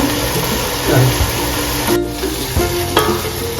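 Chicken biryani masala with fried onions being stirred in a pan, a steady sizzle with scraping, stirring strokes throughout, close and fairly loud, no talk.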